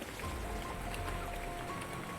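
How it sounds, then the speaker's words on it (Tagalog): Rain falls steadily in a faint, even patter and hiss outdoors, with no one talking. "Lagi na lang umuulan."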